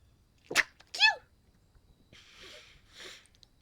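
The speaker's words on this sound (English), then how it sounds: "now my sneezes want to be part of this, too." Two sharp sneezes burst out in quick succession, loud and close, followed by a couple of softer breathy sniffs or exhales in a quiet room.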